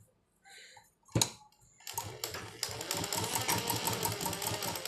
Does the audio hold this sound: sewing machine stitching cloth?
yes